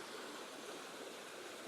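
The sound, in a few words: river flowing past a small waterfall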